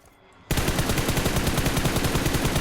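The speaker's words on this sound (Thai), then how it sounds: "มีเสียงปืนอยู่ด้านหลังเราไกลๆด้วยนะครับ" Dense, rapid gunfire from PUBG Mobile erupts after half a second of quiet and keeps rattling steadily as a loud, continuous burst with no talk over it.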